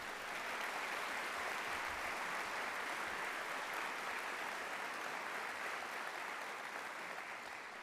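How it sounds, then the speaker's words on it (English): Sustained applause from a large convocation crowd honoring emergency management staff, a dense even wash of clapping that holds steady and loud for the whole stretch. "give them a big round of applause. And let's do it now because they'll watch this later"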